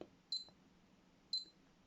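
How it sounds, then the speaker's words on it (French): An airsoft bomb prop gives two short, sharp electronic beeps about a second apart, the alarm chirps of its counting display, faint and clean against a quiet room. "la petite alarme et le compteur qui s'incrémente"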